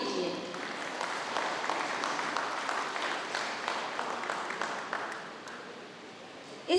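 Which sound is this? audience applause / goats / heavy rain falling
audience applause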